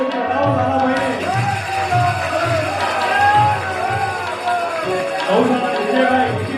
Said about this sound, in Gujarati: તાળીઓથી બતાવો સન્માનને.